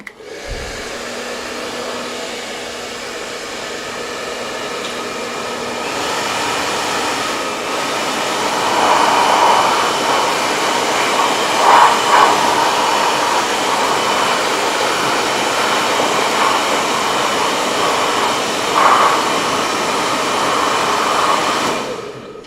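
A hair dryer blows over weathering washes on a model tank, a loud, steady whooshing roar running unbroken from start to finish.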